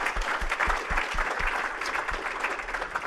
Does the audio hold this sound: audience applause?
yes